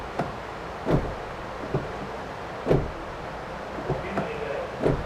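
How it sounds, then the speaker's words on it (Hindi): Doors of a 2021 Haval Jolion 1.5 Turbo opening and shutting, several separate thumps and clicks spaced across a few seconds, close by over a quiet background. "ये इसके डोर्स की साउंड।"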